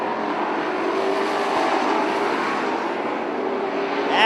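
Race cars at a Beaver Dam Grand National event work through turns 3 and 4, a sustained, blended engine roar from several cars at moderate distance, steady and fairly loud, swelling slightly at the end.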